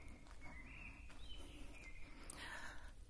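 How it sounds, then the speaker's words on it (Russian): Faint birdsong outdoors, a few short whistled phrases and chirps rising over a low background hiss, distant and quiet. "я надеюсь все-таки, что вам слышно пение птиц."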